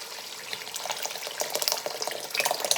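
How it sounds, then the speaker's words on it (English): Tomato stew for jollof bubbling and popping in a pot, a dense crackling sizzle with rapid small pops, close and steady, no talk. "Oh, this stew's gonna pop on me."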